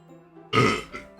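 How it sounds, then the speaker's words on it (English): A single loud, close human burp that swells abruptly and tails off with a smaller second gulp, heard over a faint hum of background sound. "Sorry, y'all, I just burped."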